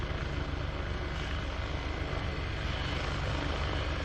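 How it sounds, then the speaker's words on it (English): A steady, close helicopter rotor and engine roar near Manchester Airport fills the air continuously without pause, loud and unchanging throughout. "oh, you can hear the helicopter"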